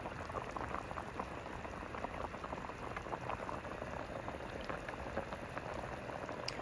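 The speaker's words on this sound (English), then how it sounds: "Then you just cover the pot and let it cook." Vegan pumpkin soup bubbling in a covered pot, a continuous soft boil of small bubbles and pops, steady and fairly faint, with no one speaking.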